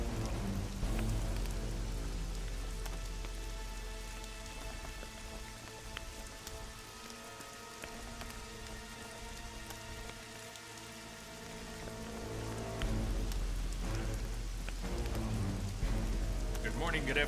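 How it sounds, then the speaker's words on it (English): Steady rain falls in the video game The Witcher 2, a dense continuous patter that softens briefly midway and swells again, with a sustained tonal drone running underneath. "Everyone else got out of the rain. We'll stand here in the rain."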